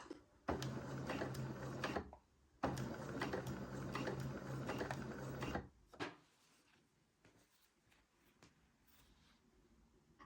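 A sewing machine stitches a bias tape seam in two steady whirring runs, broken by a short pause. The sound is close and moderately loud, then quiet handling noises follow.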